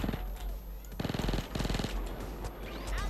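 Rapid bursts of Micro Uzi submachine gun fire in the Payday 2 video game, two dense rattling volleys about half a second apart, loud over a steady background rumble of game noise.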